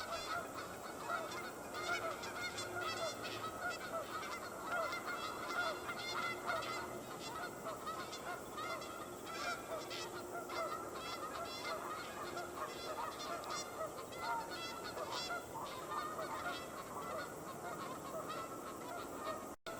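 A pair of geese at Beaumaris Lake in Edmonton honk loudly and continuously after chasing off intruders, a dense, repeated trumpeting with no pauses.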